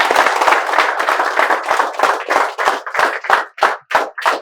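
An audience claps together in a sustained burst of applause to welcome students at a spoken English class, the hand claps dense at first and then thinning into separate, distinct claps toward the end, with no voices over it.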